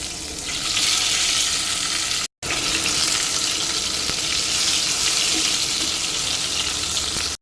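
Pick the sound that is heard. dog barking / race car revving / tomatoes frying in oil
tomatoes frying in oil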